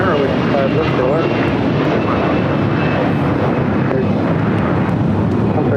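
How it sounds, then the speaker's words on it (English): An Air Canada Airbus A321 airliner departs LAX for Toronto, its jet engines producing a loud, dense, sustained roar that fills the whole stretch with no pause. "This is Air Canada 792 taking off to Toronto on an A321"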